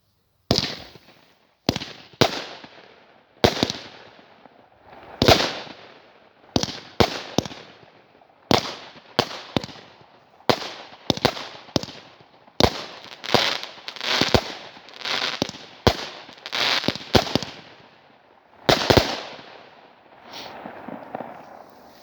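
A Dream Light fireworks cake launcher fires a rapid string of sharp shots and crackling bursts, loud and close, with short pauses between volleys and a denser flurry near the end before a trailing crackle.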